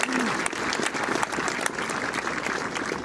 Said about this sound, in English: If you give them a big round of applause.